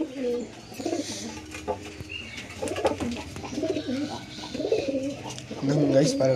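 Freshly released pigeons coo in low, rolling bursts around a coop in the morning, close and continuous, with a person's voice heard faintly among them.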